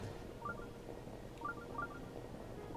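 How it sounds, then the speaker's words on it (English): A mobile phone that was not set to silent sounds a notification: a few short, faint electronic beeps in quick clusters over low background noise. "oh right, my phone's not silent"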